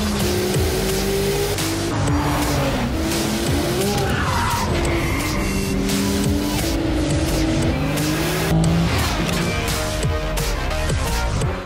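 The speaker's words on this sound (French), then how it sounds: "Pour promouvoir cette auto, Ferrari a décidé de l'emmener sur un circuit, celui de Yas Marina à Abu Dhabi." A Ferrari 296 GTB hybrid supercar is driven hard around the Yas Marina circuit in Abu Dhabi, its engine rising and falling through the gears amid repeated tyre squeal and skidding, loud and continuous.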